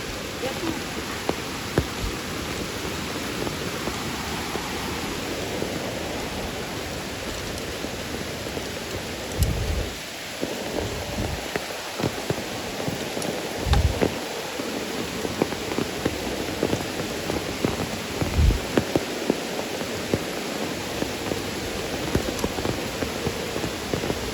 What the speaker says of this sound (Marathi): असा पाऊस पण काय थांबायचं नाव घेत नाही आहे